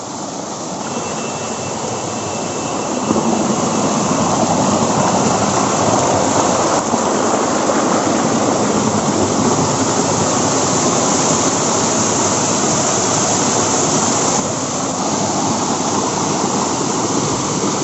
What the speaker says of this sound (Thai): น้ำตกเล็กๆ นะครับทุกคนนะกลางป่านะครับผม